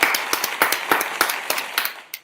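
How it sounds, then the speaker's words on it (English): Audience applause at an evening introduction event: a short burst of clapping with distinct sharp claps, fairly close, tapering off after about two seconds with one last clap. "Let me give you a round of applause."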